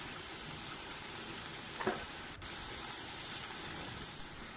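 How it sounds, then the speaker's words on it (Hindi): Red chilli powder, salt, nigella seeds and bell pepper frying in a pan for vegetable rice, a steady close hiss with a brief stir or scrape near the middle, no talking. "मसाले को भून लेंगे"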